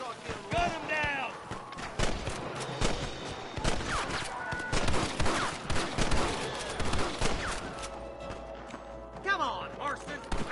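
Gunfire in Red Dead Redemption comes as rapid, repeated shots in a busy firefight. Loud cracks and bursts run across the scene, with shouting voices and other action noise mixed in.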